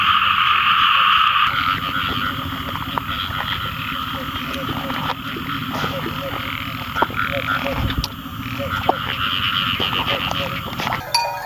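A dense chorus of frogs croaking together in Thailand after the first rain, a loud continuous pulsing din with sharp clicks, while someone talks over it.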